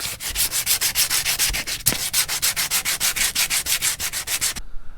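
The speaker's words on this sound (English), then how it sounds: "So I'm just going to hit it with some sandpaper just to free up any loose rust." Sandpaper scrubs loose rust off a Nissan S14 car subframe in fast, steady back-and-forth strokes, loud and close, ending abruptly near the end, with no talking.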